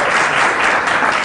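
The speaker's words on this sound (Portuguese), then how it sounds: "Palmas." A class of high school students applauding, a brief burst of dense, steady clapping that fills the whole moment at an even loudness.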